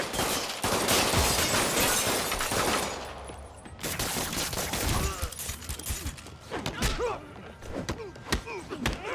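Gunfire from criminals shooting at Spider-Man in a video game, dense bursts of loud shots and thuds filling the first few seconds, then scattered impacts and whacks mixed with game effects.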